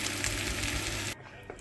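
Leftover turkey and gammon fry in a pan with a loud, crackling sizzle that runs steadily for about a second and then cuts off abruptly into quiet room tone.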